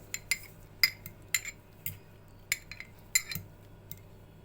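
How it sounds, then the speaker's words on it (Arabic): A fork lightly turns kofta in beaten egg, tapping and clinking sharply against a bowl in a loose, irregular series of close, crisp ticks with quiet pauses between them. "بالشوكة كده هنقلبها تقليبة خفيفة"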